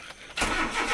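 A Maruti Zen hatchback starts up: a quiet stretch, then the starter catches and the engine bursts into a loud, steady running note, close by.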